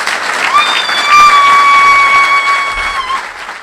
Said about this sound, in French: Je voudrais vous inviter à applaudir ça très fort.